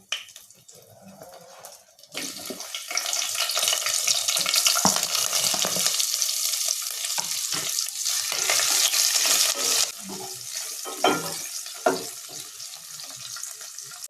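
Whole spices such as star anise, cinnamon, cloves and mace frying in oil for bagara rice, loud continuous sizzling that surges after a quiet start, broken by occasional scraping and stirring knocks.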